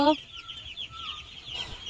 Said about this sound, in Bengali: ছোট ছোট মুরগির বাচ্চাগুলো এখন লালন পালন করে এখন বড় করতে হবে